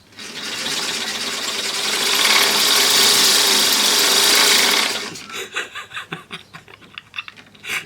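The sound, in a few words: exercise bike flywheel spinning belt and output shaft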